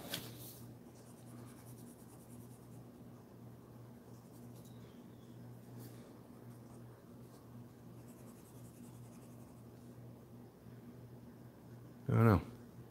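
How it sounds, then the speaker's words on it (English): A colored pencil scratches steadily across paper, a soft continuous rubbing over a low background hum, with one louder bump near the end. "This is the pencil color I use to draw"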